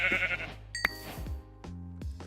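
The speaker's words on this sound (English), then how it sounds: "we can one punch sheep now." Video game sheep bleats as it gets punched, a few short wavering cries with a sharp hit sound partway through, fairly faint under a steady background.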